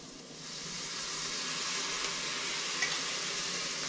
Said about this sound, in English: Now I'm going to deglaze the pan.